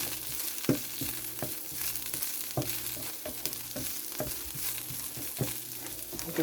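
Food fries steadily in olive oil in a pan, giving a constant loud sizzle with periodic clinks and scrapes from stirring, and no voices.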